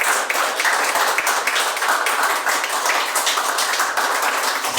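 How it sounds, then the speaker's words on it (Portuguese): A church congregation clapping along in steady, rapid rhythm, loud and continuous, filling the space without speech. "Que as palmas louvem e agradeçam ao Senhor."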